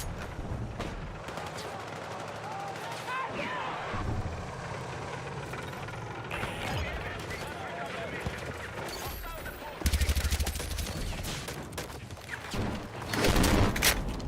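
Rapid bursts of gunfire from Battlefield 6, with L85A3 rifle fire among them, crackle in dense overlapping volleys over a low engine rumble, growing louder toward the end.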